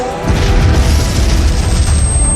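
Explosion of a gas station in an animated zombie cartoon: a loud, sustained boom with dense low rumble lasting the full stretch, unbroken and close, with no talk.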